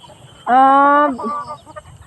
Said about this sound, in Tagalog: Ayan, daming manok mga kakariyang